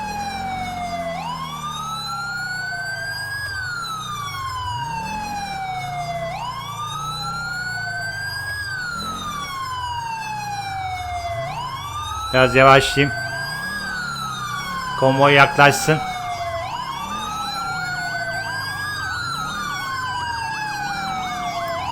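Wailing emergency sirens from a fire engine and an ambulance in GTA 5 sweep up and down continuously in overlapping cycles, loud and steady, with two brief bursts of horn-like blasts partway through and someone talking over them.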